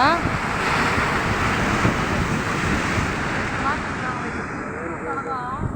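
Waves surge and wash onto a rocky shoreline at Chennai beach while wind buffets the microphone in a steady, loud rush, with faint voices and a bird call or two over the surf.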